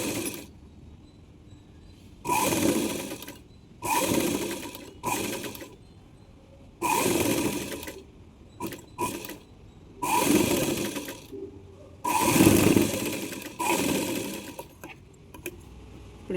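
A sewing machine stitches umbrella fabric for a baby's two-year-old size umbrella in repeated bursts of steady whirring, each lasting one to two seconds, separated by short pauses and faint handling noises.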